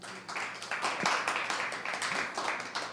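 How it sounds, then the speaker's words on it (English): A studio audience claps for a guest on a body language talk show, giving moderate, fairly distant applause of many hands that holds steady for a few seconds. "Give Penny a big round of applause"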